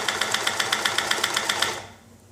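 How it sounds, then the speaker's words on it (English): Singer 5528 sewing machine running at steady speed with a slight, regular knocking from the bobbin casing area, the rapid stitching pulses continuing for about two seconds before the motor stops. "Now I do hear a knocking a little bit. I believe that's the bobbin adjustment, the screw on there, on the bobbin casing."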